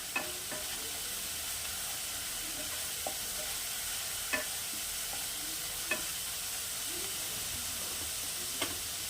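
Ground mustard paste with green chili, salt and turmeric fries with aar fish in a pan. The steady soft sizzle and hiss are broken by a few sharp clicks and taps of a spoon stirring.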